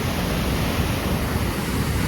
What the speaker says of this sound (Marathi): जोरदार असं कोसळताना दिसत आहे मित्रांनो पाणी.